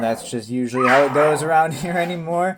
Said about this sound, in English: Excuse the wrestling dogs in the background